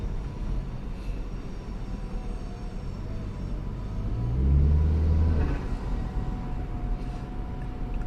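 Tuned 2.3-litre Saab 9-5 with a TD04 turbo drives along, a low steady engine drone and road rumble that swells briefly under light throttle midway, heard from inside the car.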